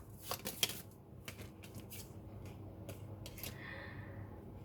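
Tarot cards being shuffled and drawn by hand, with soft close riffling and slapping bursts followed by a brief sliding card sound, quiet and without speech.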